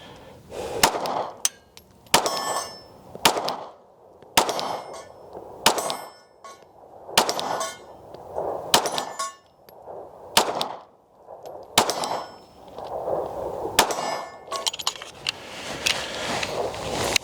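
Rost Martin RM1C pistol rounds striking a steel target at a range: a long series of sharp metallic clangs and pings, each with a gunshot crack, spaced roughly a second or two apart, fairly loud with no talking.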